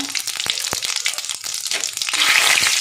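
Cumin seeds crackle and sizzle in hot oil for tempering, a dense spitting fry with sharp pops scattered throughout and a louder burst of sizzling near the end.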